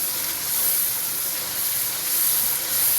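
Tomatoes fry with spices in a pan while cooking chickpea degi pulao, giving a steady, close, hissing sizzle with no talking.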